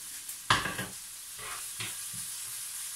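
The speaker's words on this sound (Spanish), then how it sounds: "Aquí se está sofriendo la verdura." Vegetables sautéing in a frying pan for a blood-and-tomato dish, with a sharp utensil scrape and stir near the start, then soft sizzling and a few lighter stirring strokes, with no talking.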